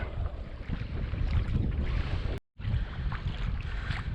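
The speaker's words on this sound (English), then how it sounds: "Got the wind coming directly into this shoreline here." Steady wind blows hard onto a lake shoreline, a loud continuous roar of microphone buffeting with one brief gap.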